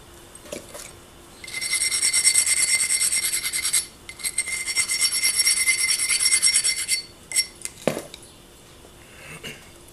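A tool pressure flaking stone takes tiny flakes off the bottom edge, giving two long, close scratchy scraping passes, then a few sharp snapping clicks.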